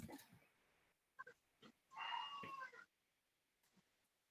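A pet cat sitting nearby indoors gives a faint, drawn-out meow of nearly a second, preceded and followed by soft scattered noises in a quiet room.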